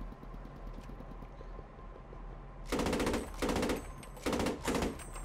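A tank's machine gun fires in the WWII game Post Scriptum, with four loud, rapid bursts of automatic fire after a quiet stretch of low engine rumble.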